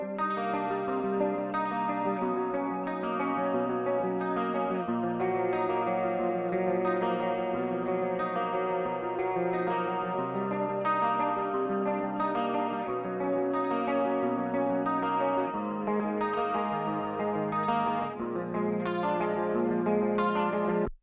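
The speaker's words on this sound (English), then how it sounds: "The Hughes and Kettner has one of the most amazing clean tones, in my opinion." Clean electric guitar played through a Hughes and Kettner amp, steady sustained chords and notes ringing continuously at a close, even loudness with a shimmering effect-laden tone throughout.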